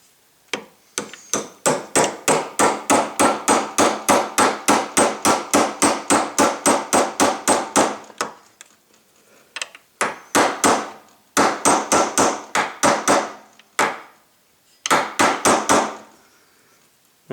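Rapid, sharp hammer taps drive a Glock rear sight into place, a long steady run of close metallic strikes, then a pause and several shorter bursts of tapping.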